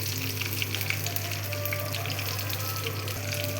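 Dried red chillies, garlic and curry leaves fry in hot oil, giving a dense, continuous close sizzle with a low steady hum underneath.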